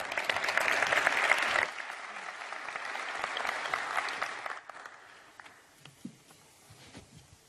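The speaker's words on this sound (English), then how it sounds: "So please give him a round of applause." A conference audience applauds to welcome the mayor of Leipzig, a full, dense roar of clapping that holds strongly, then thins and fades out over the last few seconds into scattered claps and room noise.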